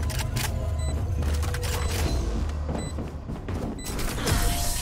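Explosions and gunfire in a tactical shooter match, dense booming bursts and rattling impacts layered continuously over a low rumble for several seconds, with no talk.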